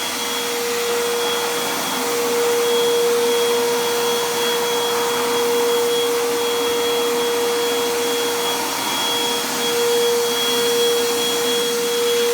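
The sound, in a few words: vacuum sucking dust out of concrete cracks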